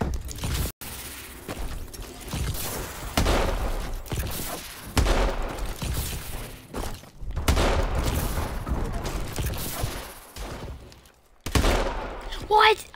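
Rapid gunfire and blasts ring out through a Call of Duty Advanced Warfare gun game match, dense bursts with brief gaps, while a player talks over the action.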